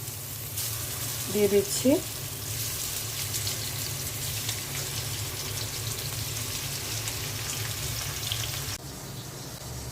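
Fish fries in oil in a pan in a home kitchen, giving a continuous moderate sizzle under a woman's speech, with a couple of brief clatters early on.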